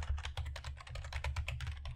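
Steady, close typing on a computer keyboard in a quiet room, with rapid soft key clicks and low thumps running continuously and no voice.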